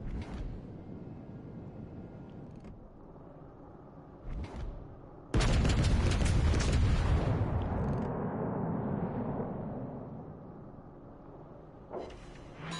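A broadside from the warship Agincourt in World of Warships: a sudden, heavy boom of big naval guns that rolls and decays slowly over several seconds, with faint distant shots before and after.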